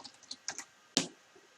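A few scattered keystrokes on a computer keyboard click up close in an uneven rhythm, with one sharper, louder press near the middle.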